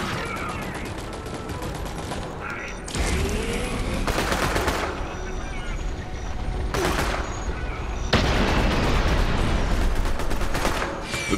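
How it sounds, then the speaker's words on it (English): Rapid automatic turret fire in Borderlands 3, sustained bursts that swell louder around the middle and again near the end, with dense mechanical clatter and booming impacts throughout. "Get those turrets firing!"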